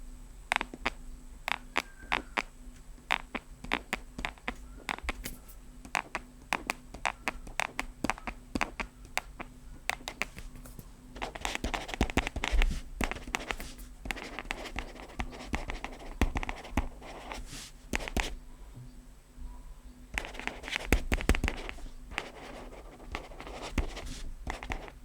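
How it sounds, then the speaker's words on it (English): Boox Pen2 Pro stylus tapping and scratching across a hard tablet screen, with short bursts of faint squeaks from its pressure-sensitivity mechanism recurring irregularly throughout, fairly close and quiet. "There is also an issue of squeaky noise coming from the Pen2 Pro when writing."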